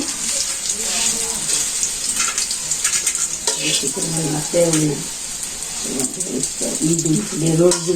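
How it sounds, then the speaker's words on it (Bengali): Bitter gourd (karela) fries in a pan with a continuous hissing sizzle, while people talk over it intermittently. "এই যে করল্লা ভাজি শেষ"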